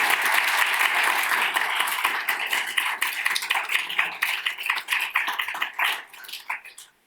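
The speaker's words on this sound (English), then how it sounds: "give John a round of applause for his contribution" Audience applause at a Bibliographical Society of America annual meeting, dense clapping that thins and fades toward the end, with scattered individual claps.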